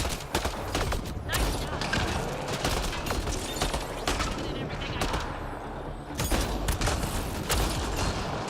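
Dense, continuous gunfire from a sci-fi shooter, Mass Effect Andromeda, with rapid shots and impacts layered over game noise, briefly thinning before bursts resume; faint talk is mixed in.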